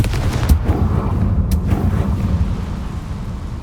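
The Confringo explosion spell from Hogwarts Legacy: a heavy low rumbling blast that lingers as a broad roar, with a couple of sharp cracks on top, loud and continuous for a few seconds.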